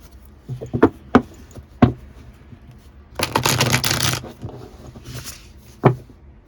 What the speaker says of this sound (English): Why are you shuffling like that?